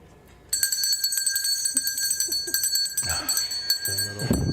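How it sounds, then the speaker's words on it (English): A bright bell rings repeatedly with sustained metallic overtones, loud and close, with some handling noise and a low thump near the end. "the best part is the sound of the bell"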